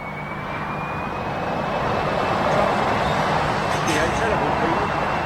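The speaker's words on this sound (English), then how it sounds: "We've got this little Aer Lingus 320 that's, I think, possibly either going to Dublin or Cork, one or two." An Aer Lingus Airbus A320 jet at Heathrow Airport gives a broad, steady engine roar that swells slightly, with a thin whine gliding above it, heard from a moderate distance.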